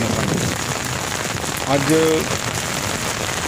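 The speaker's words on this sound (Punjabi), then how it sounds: "ਰਾਤ ਹੁੰਦੇ ਹੀ ਬਠਿੰਡਾ ਵਿੱਚ ਬੱਦਲਬਾਈ ਹੋਈ ਅਤੇ ਮੀਂਹ ਆਉਣਾ ਸ਼ੁਰੂ ਹੋ ਗਿਆ" Steady rain pours down at night in Bathinda, Punjab, a dense, even hiss of drops striking surfaces throughout, with a voice speaking briefly over it.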